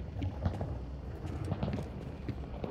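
Rhythmic clopping of horse hooves at a steady trot in the video game Hunt: Showdown, fairly faint and a little distant, over a soft background hiss.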